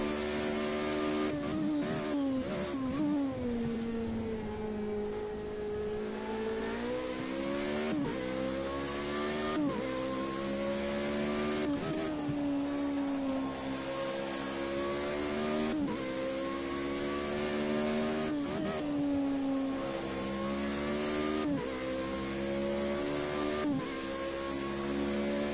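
Formula Renault race car engine in Project Cars 2 racing at Monza, a loud continuous engine note climbing through high revs with repeated gear shifts and brief dips, steady throughout with no talk.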